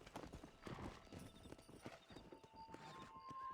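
Horse hooves clip-clopping in Red Dead Redemption, a steady run of close, busy hoofbeats with a brief whinny, set against game ambience and a held tone near the end.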